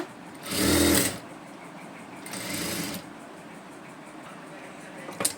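A sewing machine stitching piping onto the back neck of a blouse runs in two short whirring bursts, the first louder and the second softer, close by, followed by a faint click.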